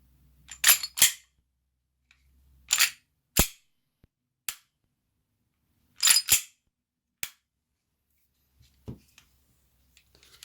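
A series of sharp shots from an ICS BLE XFG airsoft gas blowback pistol with a mechanical snap, mostly in quick pairs separated by quiet pauses, crisp and close.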